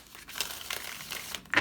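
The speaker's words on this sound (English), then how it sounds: "One more shuffle." Tarot cards shuffled by hand for a reading, giving a brief close papery riffle in a few soft bursts that ends in a sharper snap.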